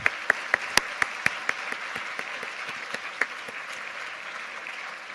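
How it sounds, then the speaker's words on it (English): An audience claps together to honour a pro-life center at a dinner event, a steady mid-level patter with a few sharper individual claps standing out near the start. "please give a round of applause to the UST Pro-Life Center"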